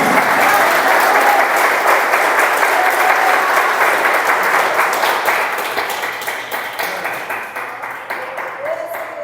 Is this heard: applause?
yes